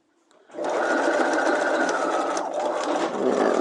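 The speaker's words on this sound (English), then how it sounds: "I'm going to stop stitching right where my stitching started" A sewing machine stitches a fly front zipper on a pair of pants, starting after a brief quiet moment and then running in a steady, close, continuous whir until the end.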